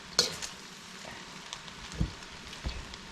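Chicken fried rice with mixed vegetables being stirred and fried in a pan: a soft steady sizzle with a few scraping stir clatters, quiet and close, with no talking.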